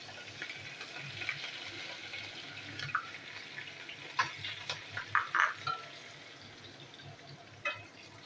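Cumin seeds and two green chillies hit hot oil with a soft, faint sizzle and a handful of sharp crackling pops, quiet and close.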